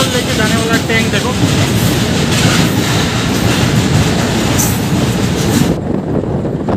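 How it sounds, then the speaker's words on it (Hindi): A military train carrying crude oil rolls past on rails in a continuous loud rumble with clickety-clack wheel rhythm. It stays close and steady for about six seconds, then cuts off abruptly, with faint voices mixed in. "तो गाइस ये है आर्मी वालों का क्रूड ऑयल लेके जाने वाला टैंक"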